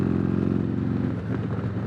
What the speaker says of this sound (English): I just like how the 475 cam sounds at idle too